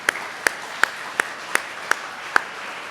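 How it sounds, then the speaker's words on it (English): At an equine gala, an audience's light applause sits under one sharp, regular clap standing out about every third of a second, a sparse, faint patter rather than a full ovation. "let's give ourselves a round of applause for supporting the cause."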